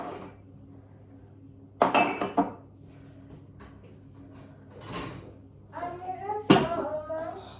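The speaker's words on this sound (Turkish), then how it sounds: "kirli bulaşıklarımı yerleştireceğim bulaşık makinesine" Dirty dishes clatter and clink in a few separate bursts as they are loaded into a dishwasher, with plates and utensils knocking together up close between quiet pauses.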